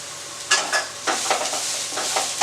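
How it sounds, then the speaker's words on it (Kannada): Poppy seeds tipped into a frying pan of mint and coriander leaves for chicken chops and stirred, with a loud close sizzle and a quick series of spatula scrapes. "ಈಗ 1 ಸ್ಪೂನ್ ಗಸಗಸೆ ಹಾಕ್ತಾಯಿದ್ದೀನಿ"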